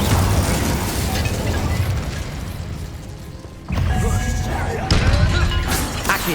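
Glacius freezing and Incendio fire spells go off in the game Hogwarts Legacy, inside catacombs. Dense crackling bursts and impacts fill the scene, with a fresh loud blast near the middle and another shortly after.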